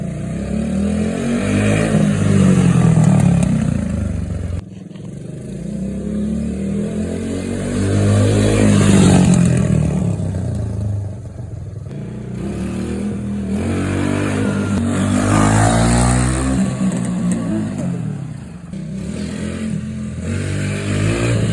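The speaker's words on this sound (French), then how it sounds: "je vous laisse avec les images pour valider le test du fonctionnement du moteur" A motorcycle engine runs loudly, its throttle blipped and revved in repeated surges that rise and fall over steady idling, with no talking.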